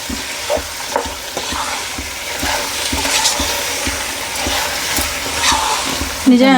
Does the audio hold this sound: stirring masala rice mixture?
yes